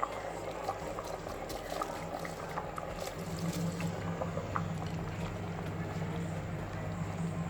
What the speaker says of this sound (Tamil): இப்போ பார்த்தீங்கன்னா தண்ணி நல்லா கொதிச்சிருச்சு.